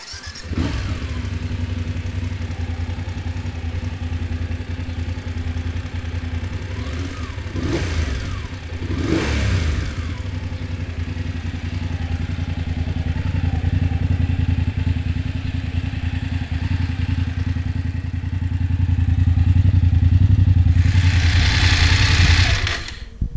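A 2018 BMW F750GS motorcycle engine runs steadily at low revs, then rises in a couple of sharp revving surges before settling and climbing again as the bike rides on, ending with a brief high-pitched whine, loud and close with no talk.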